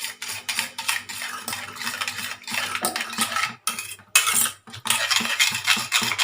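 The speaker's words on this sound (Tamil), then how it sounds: "ஒரு பீட்டரை வச்சு நல்லா கலந்து விட்டுடலாம் ஃப்ரெண்ட்ஸ்" Eggs with salt and pepper beaten in a bowl with a beater, a fast continuous clatter of metal against the dish with brief pauses, loud and close, with no voices.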